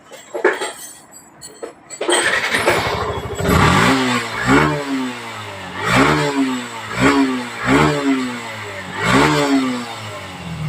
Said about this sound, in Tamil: இப்போ வண்டி ரெடி பண்ணி முடிச்சாச்சு ஸ்டார்ட் பண்ண போகிறோம்